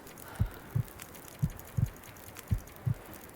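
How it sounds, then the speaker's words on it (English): Six low, muffled heartbeat thumps in The Long Dark survival game, arriving in paired beats at a steady pace, clear and close against quiet background hiss, with no talking. "Another heartbeat."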